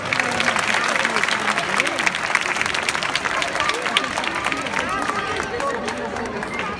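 Applause from the audience at a C.S.I. Imola group dance show, a steady wash of clapping mixed with crowd noise and scattered voices that holds throughout.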